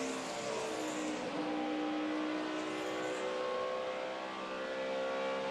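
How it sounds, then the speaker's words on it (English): Distant NASCAR stock car engine droning steadily with a faint rising and falling whine, muffled and continuous throughout, at Charlotte during the 2009 Sprint All-Star Challenge race. "I think that's the engine we're listening to."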